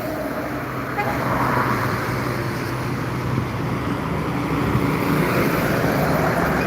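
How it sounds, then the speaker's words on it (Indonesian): Heavy trucks rumbling past on the Jalan Lintas Timur highway near Palembang, South Sumatra, a continuous loud roadside drone of engines and tyres with steady traffic noise throughout. "Sekarang baru banyak truk yang melintas"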